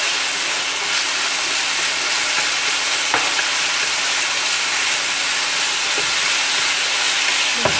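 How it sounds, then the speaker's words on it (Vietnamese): Minced pork stir-fried in a pan with pepper, MSG and fish sauce gives a steady, loud broadband sizzle with a couple of faint scraping stirs, continuous throughout with no talking. "Mình xào thật là kỹ và để cho nó thơm thôi, nó ngon thôi."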